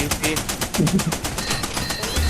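Automatic gunfire in the shooter game Level Zero Extraction, steady rapid bursts filling the whole short stretch at close range, with a brief low thump near the end.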